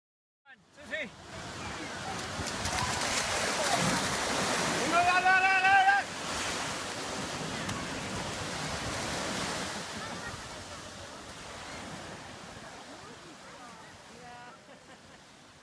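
Ocean waves roll onto a beach in Spain, a broad, loud surf wash that swells and then eases back into a softer steady roar, with wind buffeting the microphone and faint voices in the distance.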